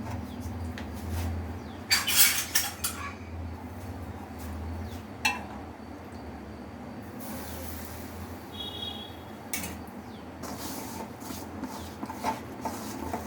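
Soft, intermittent rubbing and squishing of cauliflower pakora batter being mixed by hand nearby, with an occasional light clatter.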